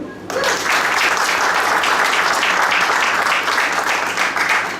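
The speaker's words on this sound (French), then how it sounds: "on peut l'applaudir" An audience applauds a former tourism minister at an international tourism award ceremony, loud sustained clapping that starts abruptly after a brief pause and holds steady throughout.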